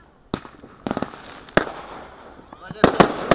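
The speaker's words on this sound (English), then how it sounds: "Just shoot mortars off all night long." Firework mortars explode at night in several sharp, loud booms spread across a few seconds, with some crackling tails between blasts and a cluster of bangs near the end.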